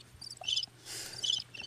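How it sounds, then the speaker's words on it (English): Crickets chirping as a sound effect, several bright trilling bursts in quick succession, clear and alone over a faint low hum. "Where's the crickets?"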